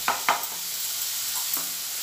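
Tomato puree masala frying in ghee in a kadhai, a soft continuous sizzle broken by a few sharp scraping stirs near the start and one more later, no talking.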